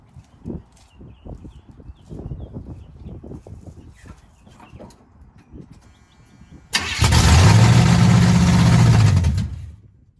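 A 1983 Chevrolet C10 truck engine with a 750 Quick Fuel four-barrel carburetor starts and runs loudly for a few seconds, with a rising and falling rev, after a stretch of quiet shop noises and clunks.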